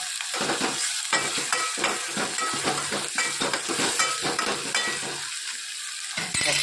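Chopped tomatoes hit hot oil in a pan and fry with a loud, steady sizzle, while a utensil stirs them in repeated scraping strokes close by.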